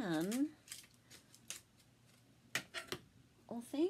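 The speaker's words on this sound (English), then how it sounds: "So I'm going to just cut those off of here." Scissors snip through black and white patterned paper in a few short, close cuts between bits of talking.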